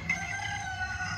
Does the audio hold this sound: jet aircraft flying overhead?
no